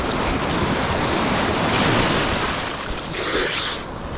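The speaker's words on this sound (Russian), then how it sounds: "О, какая волна!" Ocean surf roars steadily on a beach at Hua Hin, Thailand, with a wave swelling and crashing near the end amid wind buffeting the microphone.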